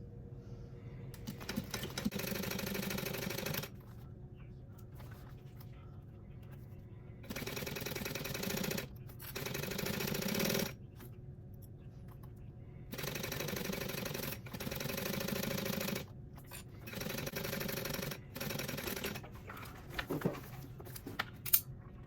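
A sewing machine top stitching a purse strap runs in several bursts of fast mechanical whirring and clatter, separated by short pauses, close and steady, with no talking.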